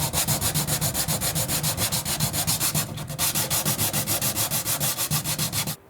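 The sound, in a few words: sanding paint runs off a wooden bifold door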